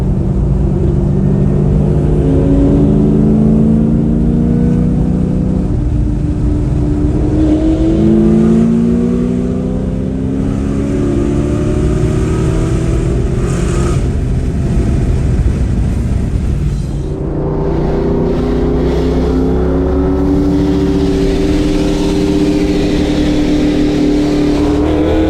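A 1997 car's engine revs hard at a race, loud and close, sweeping up through the gears in repeated rising pulls with short pauses between them.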